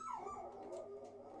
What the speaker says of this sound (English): there's the good morning from the dogs